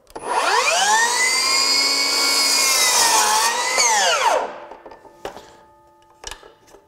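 A Metabo HPT 18V 10-inch cordless miter saw spins up with a rising whine, cuts through trim for several seconds, then winds down, followed by a few light knocks and clatters.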